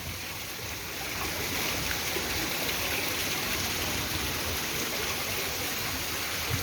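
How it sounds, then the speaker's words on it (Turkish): Water flows steadily over a lit fountain or cascade, a dense continuous rushing wash, loud and close with no speech. "Ne güzel sular akıyor."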